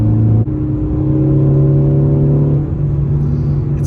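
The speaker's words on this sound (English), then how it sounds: "It sounds like a mini sports car." Ford Focus ST fitted with a Borla S-Type exhaust revs up close and loud, a steady deep engine drone with a brief dip before it climbs and holds, no talking over it.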